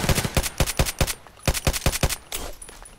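Glock 17 pistol shots in the video game Contract Wars ring out as loud, sharp semi-automatic reports in quick uneven clusters, about a dozen bangs with short pauses between groups.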